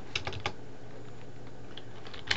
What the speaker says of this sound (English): And I'm going to type name